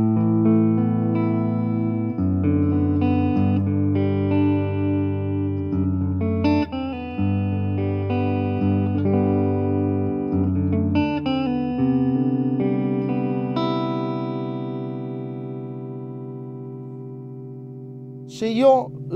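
A Sterling by Music Man Luke LK100 electric guitar in blueberry burst plays a clean tone through its neck humbucker, with the volume and tone knobs fully open, and sustained notes and chords ring out clearly and close.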